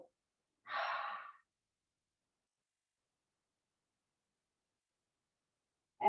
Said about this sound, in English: Make a little hissing sound when you exhale,